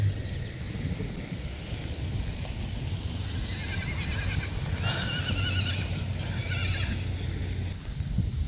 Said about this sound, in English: All the wild horses.